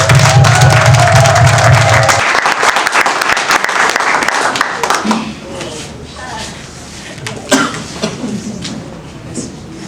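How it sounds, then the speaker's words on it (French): Audience applause and cheering at a wedding ceremony: a dense burst of clapping and voices fills the first seconds, then thins into scattered claps and murmurs. "Acclamez bien fort."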